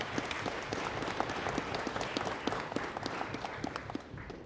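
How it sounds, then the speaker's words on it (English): A crowd applauds at the closing ceremonies of the 2024 Kawaskimhon National Aboriginal Moot, honouring a revered elder, with dense, sustained clapping from many hands filling the room. "round of applause for Josephine."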